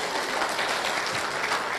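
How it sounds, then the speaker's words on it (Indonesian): Church congregation at GBI Sigma applauding, a steady, dense clapping that fills the whole short moment without pause. "berikan tepuk tangan untuk ibu-ibu dulu."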